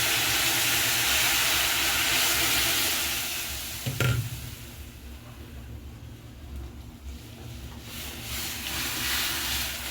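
Lentils tipped into a hot pan of fried onions, with a steady broad hiss of frying throughout and a brief louder sizzle burst as they go in near the middle, fading to a softer crackle before swelling again.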